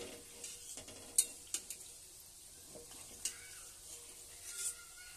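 Palm fruit fritters (taler bora) fry in hot oil with a soft, faint sizzle while a spatula stirs them, knocking against the pan in a few sharp scrapes and taps.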